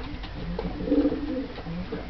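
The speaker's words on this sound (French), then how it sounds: "Très beau pigeon aussi." A pigeon coos softly in low, throaty murmurs, close by against a steady background hum.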